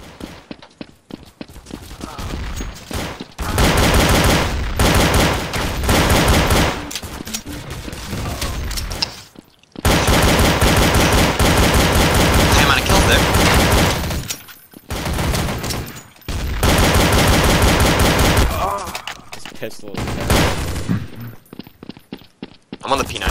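P90 fire in Counter-Strike Source, loud dense bursts of rapid automatic shots in long sustained strings broken by short gaps, with players talking over the gameplay.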